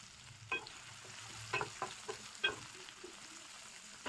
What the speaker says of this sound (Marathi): कांदा आणि शिमला त्याला चांगलं फ्राय करून घेतलं। त्याच्यामध्ये आपण ग्रीन चिल्ली पण ॲड करतोय।